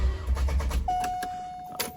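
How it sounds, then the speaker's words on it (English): A C5 Corvette engine, out of the car during removal and reinstallation work, is cranked over by its starter: a low rumbling churn for under a second, then a steady electric whine that holds and fades away, with a brief clunk near the end. "now I'm gonna try to turn the motor over and see if it'll just spin"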